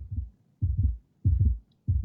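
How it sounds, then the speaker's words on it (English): Heartbeat sound effect from the video game Book of Hours: four deep, muffled lub-dub double thumps repeating at a steady, slow rhythm, close and alone with no talk. "Oh, it's got a heartbeat."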